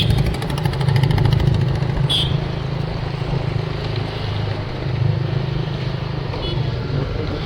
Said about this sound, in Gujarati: હવે આ બોટનું કટિંગ કામ ચાલુ છે